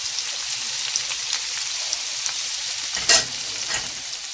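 Lentil burger taco casserole filling browns in a pan on high heat, making a continuous close, even sizzle. One sharp clatter breaks in about three-quarters of the way through.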